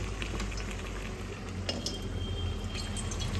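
Chicken being stirred and sautéed in hot oil in a pan for a Bengali chicken kosha, a steady low sizzle with occasional scrapes of a utensil, close and continuous with no talking.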